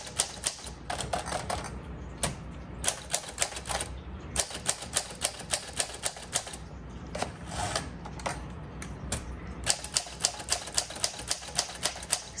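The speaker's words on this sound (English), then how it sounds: "So this one, this typewriter, because I've done it a couple of times, needs a heavier hand" Typing on a 1946 Smith Corona Speedline manual typewriter, which needs a heavy hand: brisk, uneven runs of sharp metallic key strikes and clacks continue steadily at close range with no talking.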